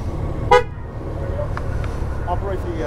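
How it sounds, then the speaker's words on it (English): A motorcycle's horn gives one short, clear toot during a state vehicle inspection, close and sharp, followed by quiet traffic-like rumble and faint talking. "Now this, honk it for me."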